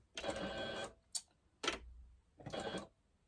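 A sewing machine stitches a fabric shopping bag in short bursts: one longer run, a quick tap, then two more brief runs, close and fairly quiet.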